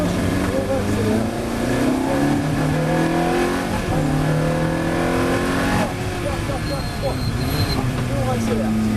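A Ferrari F430 Challenge GT4 race car accelerates hard on a track, its engine revving up through rising gear pulls with loud, close onboard roar, while a person talks over it.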